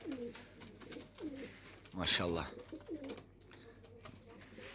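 Racing pigeons cooing in a loft, soft repeated throaty coos close by, with someone briefly speaking over them midway.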